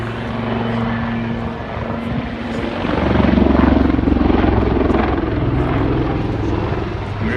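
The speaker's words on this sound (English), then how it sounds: "a high level of manoeuvrability and control power in this very agile helicopter" An agile helicopter fitted with British experimental rotor project blades flies aerobatic manoeuvres at the Bournemouth Air Show, its loud rotor drone swelling midway and holding steady in the open air.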